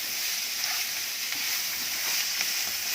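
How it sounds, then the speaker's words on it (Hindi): Vegetables and spices stir-fried in a pan for spring roll filling, a steady close hiss of sizzling with occasional stirring scrapes and no talk. "अच्छे से मिक्स करेंगे।"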